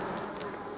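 Honey bees hum at a hive frame during a beekeeping inspection, a brief, dense, close buzzing that fills the moment with no talk over it.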